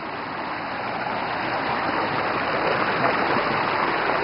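Warm water from a natural hot spring flows and gurgles in a steady, fairly loud outdoor wash, with no voices over it.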